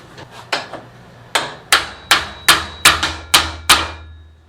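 Hammer blows drive a cold chisel into pallet wood, about nine sharp metallic strikes, three quick light taps and then a steady, evenly spaced series of harder hits, close and loud.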